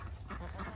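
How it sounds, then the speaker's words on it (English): Khaki Campbell ducks quacking close by outdoors on a farm, a dense run of rough, nasal calls overlapping each other across a short burst. "And then our ducks. Our ducks are finally out, y'all."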